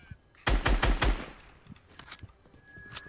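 Rapid burst of automatic gunfire in Fortnite, about five loud close shots in quick succession, followed by scattered fainter shots and clicks with a brief voice.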